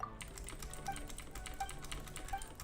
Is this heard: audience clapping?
no